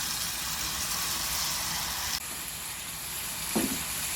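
Tomato paste sizzling in a frying masala with chilli powder and turmeric, a steady close hiss of oil crackling throughout, with a brief stir or clink near the end and no talk.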